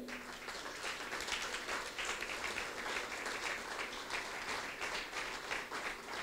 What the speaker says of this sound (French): J'aimerais que vous accueilliez avec vos applaudissements, mesdames et messieurs, monsieur Charles Leclé